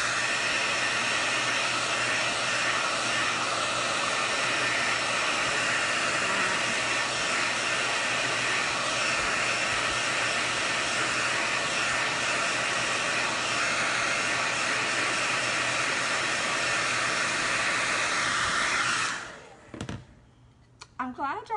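A hair dryer blows steadily on white paint covering a lemon craft, a loud, constant broadband whoosh close to the mic that runs for most of the clip before cutting off sharply near the end, followed by a few brief knocks.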